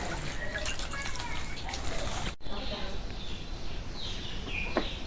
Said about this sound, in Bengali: আমি যে ফুলগুলি ধুয়ে ধুয়ে রাখতেছি